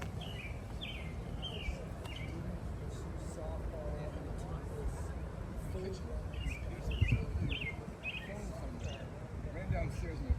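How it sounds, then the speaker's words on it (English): Birds sing outdoors on the Kentucky Bourbon Trail: repeated short chirping phrases ring out at moderate distance over a constant low rumble of wind and background noise, the calls recurring in small clusters. "So I'm just going to let this play so you guys can listen to the birds."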